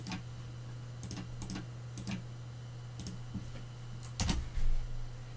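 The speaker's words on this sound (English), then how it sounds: "we need to simply type this" Commands typed on a computer keyboard, sparse key taps and small clusters of clicks at close range over a low steady hum, ending with a firmer keystroke.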